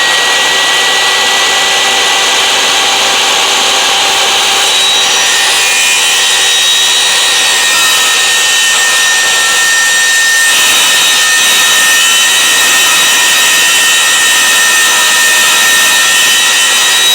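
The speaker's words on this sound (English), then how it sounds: "Time to sand." Sanding a wooden electric guitar body makes a loud, continuous abrasive roar, steady and unbroken throughout, with no voices.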